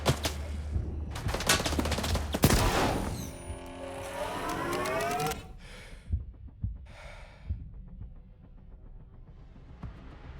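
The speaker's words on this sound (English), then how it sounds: "I'm gonna be firing this rifle a lot" Rifle fired repeatedly in a video game, sharp cracking shots in quick bursts early on, then sparser, fainter reports with game noise and a few breaths or gasps between them.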